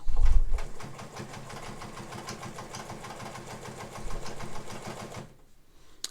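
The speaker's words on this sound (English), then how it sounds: "So I'm going to do some short straight stitches, and then we'll stretch it out to the longer version." A Japanese-made Morse all-metal sewing machine runs short straight stitches, a fast steady mechanical clatter, loud and close, that stops near the end.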